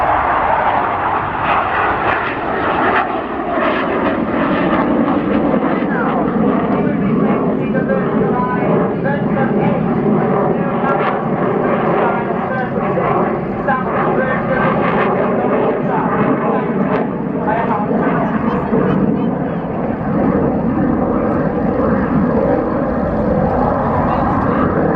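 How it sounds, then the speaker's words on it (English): Jet engines roar loudly and continuously as a display aircraft spools up through a tight, nose-down turn at an air show, a broad sustained rumble with shifting tone throughout. "pilot push the thrust lever from idle 2 inches forward to spool up and perform a minimum radius turn"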